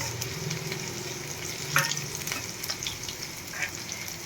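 Two medium-sized chopped onions fry in hot oil for a South Indian tomato and coconut chutney, giving a continuous loud sizzle with a spatula scraping and stirring the pan at irregular intervals, with no talking.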